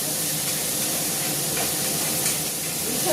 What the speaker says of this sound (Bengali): চিংড়ি মাছ হচ্ছে ভাজা বসিয়েছি